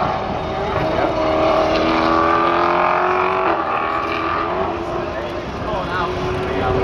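Race cars roar past at high speed at Road Atlanta during the Petit Le Mans, engines whining and shifting pitch, with people talking over the loud, continuous engine noise.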